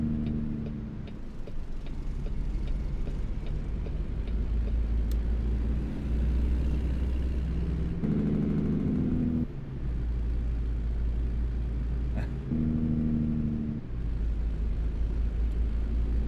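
A heavy truck engine drones steadily in American Truck Simulator on a full-motion sim rig, low rumble holding throughout with a few shifts in pitch as it drives, loud and close with no talk.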